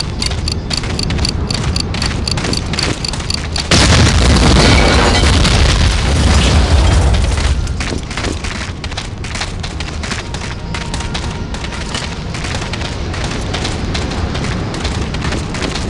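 Flak 88 guns being blown up during a North African sabotage mission in a World War II video game: a loud, close boom with splintering debris rumbles for several seconds, then gives way to a steady noisy game background.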